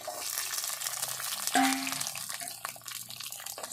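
Ginger, garlic and chopped onion sauté in a pan for a pepper curry, giving a soft, steady sizzle and hiss with a brief clink of utensils partway through.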